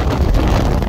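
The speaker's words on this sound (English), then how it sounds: "Hear that wind." Strong winter storm wind roaring outside, a steady broadband rush with low buffeting gusts, loud and continuous throughout with no voices.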